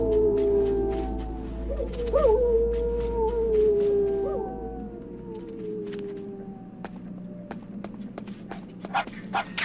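Puppy in Metal Gear Solid The Twin Snakes letting out wavering, rising howls over a low droning game backdrop, followed by scattered sharp clicks and taps as the howling fades.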